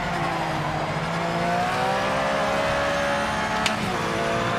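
Porsche NGT race car in a racing video game, its engine droning loud and steady with rising and shifting pitch as it accelerates, no voices over it.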